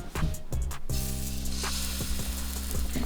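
French toast frying in a hot pan gives a steady, close sizzle with faint crackles, sharpened by a few brief clatters near the start; no one speaks.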